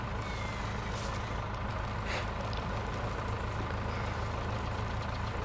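A wheel loader backs up in the Farming Simulator game on a forest logging map, its steady engine drone and hiss heard up close with no talk, though no distinct reversing beeps stand out.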